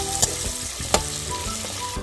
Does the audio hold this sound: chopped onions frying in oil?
yes